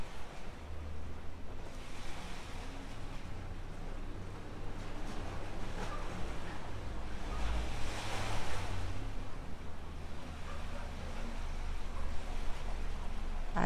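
Ocean waves washing in a steady rolling wash of surf, with a low rumble and wind over the microphone, swelling slightly midway, continuous and unbroken with no voices.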